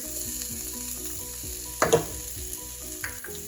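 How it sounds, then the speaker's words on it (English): Green chilies, ginger and garlic sauté in a pan with whole spices for chicken curry, giving a steady close sizzle with a brief louder burst of stirring or spattering midway, no talking. "I'm going to give it a quick stir and saute all these for about 2 minutes until the garlic is nice and golden brown."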